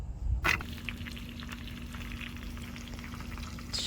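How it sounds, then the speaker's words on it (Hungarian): Breaded liver fries in a pan inside a camper van in Japan, a close, steady sizzle with fine crackling that follows a brief bump at the start. "Sül a májunk"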